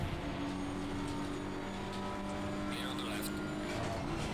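A BMW GT3 race car in Assetto Corsa Competizione drones at a steady engine pitch with tyre and wind noise, while someone talks over it.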